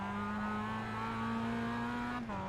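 A Mazda MX5 engine at Summit Point Raceway holds a loud, steady pitch under acceleration, then dips sharply with a quick shift near the end, heard from inside the car.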